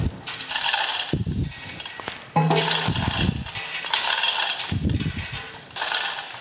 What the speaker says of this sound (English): So now I'm gonna get my crane over here and we'll pull that crank out of there.